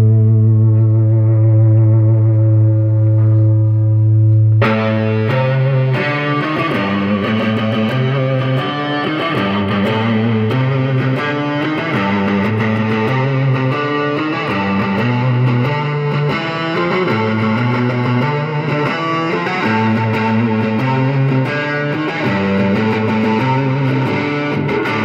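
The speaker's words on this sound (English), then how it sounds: "we're out front with the 1973 Gibson Les Paul Custom" A 1973 Gibson Les Paul Custom electric guitar on its neck pickup plays through a Fender Super Reverb amp, starting with a held low chord, then moving into a steady, driven riff with distortion and reverb, loud and alone throughout.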